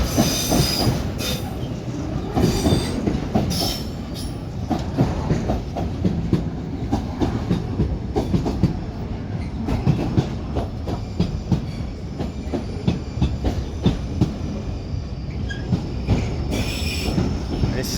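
A DRS Class 88 locomotive hauls a Tesco intermodal freight train through Manchester Piccadilly, with rolling wagons clattering, repeated wheel clicks over rail joints and squealing wheels, loud and close throughout.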